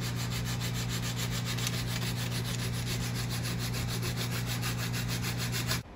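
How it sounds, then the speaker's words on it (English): Hand sanding of a wooden phone-case template with sandpaper, a close, steady rhythmic scratching of rapid back-and-forth strokes that runs continuously before stopping abruptly near the end. "now I'm using sandpaper and hand tools to refine the template down to the line"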